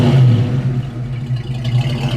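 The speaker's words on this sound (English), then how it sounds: "It's got a nice little rumble to it." Close, steady low exhaust rumble from a 1972 Mercury Cougar with a freshly tuned carburetor, holding near idle with slight rev swells throughout, no talking.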